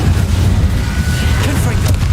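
In Hogwarts Legacy, an Incendio fire spell erupts as a dense, loud low rumble and whooshing roar lasting about two seconds, with a voice faintly present.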